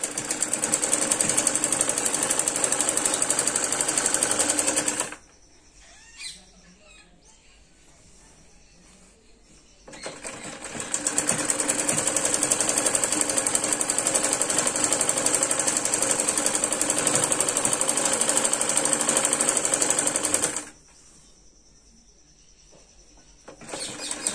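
A sewing machine stitches a salwar seam in rapid, continuous runs, loud and mechanical, stopping for a pause near five seconds and again near twenty-one seconds before starting again.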